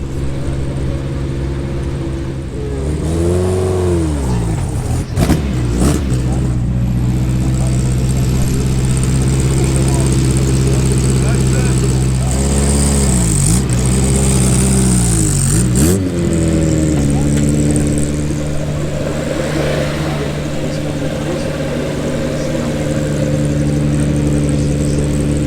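A classic Porsche Carrera 6 racing car at a historic road-rally event, its engine loud and close with a steady drone that rises and falls through two revving swells, under continuous chatter from people nearby.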